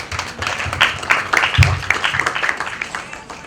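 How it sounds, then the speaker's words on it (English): An audience at a breast cancer awareness campaign launch claps in a sustained round of applause, a steady wash of many hands that swells briefly and then fades, with some voices mixed in. "I think they deserve a big round of applause."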